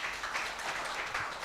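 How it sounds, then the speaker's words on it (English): At a medical talk held by GPA with Medical Trust Hospital, an audience claps for the speakers and panelists. The applause is a soft, steady wash of many hands that stays even and fairly distant for the whole stretch. "Can we have a nice round of applause?"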